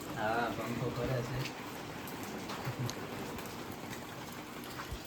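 Rain falling steadily in a monsoon setting in the Junagadh Girnar hills, a soft continuous hiss under a person talking early on, with occasional faint drips and bumps.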